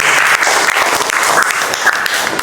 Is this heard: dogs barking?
no